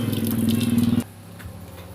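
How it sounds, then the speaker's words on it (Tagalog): Water poured over a Honda XRM or CB110 motorcycle: a steady, splashing pour for about a second that stops abruptly, leaving a quieter background with faint drips. "So try natin buhusan ng tubig"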